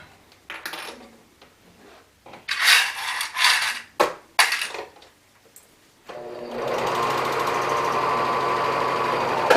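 A sewing machine runs steadily for several seconds, stitching fabric and lining together with a 1/2 inch seam allowance, after a few handling clatters and taps up close.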